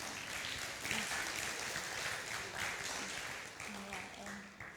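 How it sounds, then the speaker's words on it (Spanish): An audience at a workshop on South American camelids breaks into steady applause, a dense wash of clapping that carries on for several seconds at moderate distance with a murmur of voices beneath. "Recibamos con un caluroso y fuerte aplauso a la ingeniera Priscila Rossi Mori."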